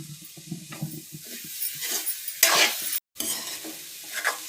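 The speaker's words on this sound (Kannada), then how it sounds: "ಇದನ್ನು ಸ್ವಲ್ಪ ತುಪ್ಪದಲ್ಲೇ ಫ್ರೈ ಮಾಡ್ಕೊತಿದ್ದೀನಿ." Grated coconut stirred and frying in ghee in a pan, with a soft continuous sizzle and spoon scraping, a brief sharp burst of activity midway, then a short gap before the gentle frying resumes.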